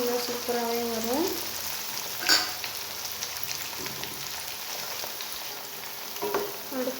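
Gram flour roasting in a pan on a low flame for laddoo makes a soft, continuous crackling hiss with a couple of light utensil knocks, and a voice speaks briefly at the start.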